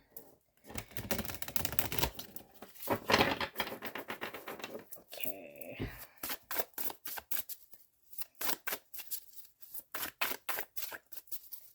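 Tarot cards riffle and slap together in quick bursts of shuffling, close up, with brief pauses between, and a voice speaks once briefly.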